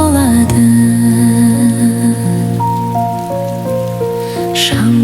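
Steady rainfall patters on a surface as a soft, even wash beneath a gentle sung lullaby melody with sustained tones, continuing throughout.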